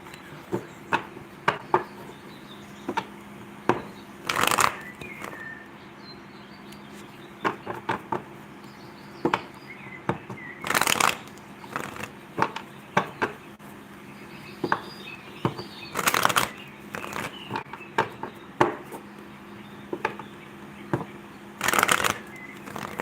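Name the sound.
shuffling tarot cards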